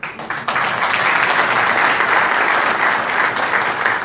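Sustained, loud applause from an audience at a town-hall meeting in Alexandria, Virginia, a dense continuous wash of many hands clapping that swells after a brief opening moment and holds steady.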